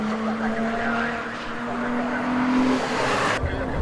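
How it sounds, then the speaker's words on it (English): Porsche race cars in a 2012 BRSCC race at Croft circuit corner through the Clervaux Hawthorns section, with a close, sustained engine drone and tyre noise that cuts off abruptly near the end. "Could be the more nimble of the two cars as they come into the Clervaux Hawthorns section"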